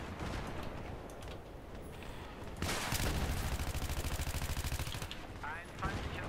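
Machine gun fire in Battlefield 3, scattered distant shots first, then a loud sustained automatic burst lasting about two seconds, followed by a few trailing shots amid battle noise.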